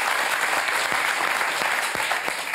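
A talk-show studio audience applauds the arrival of world cycling champion Annemiek van Vleuten, with sustained, even, loud clapping filling the room and a few sharper individual claps standing out.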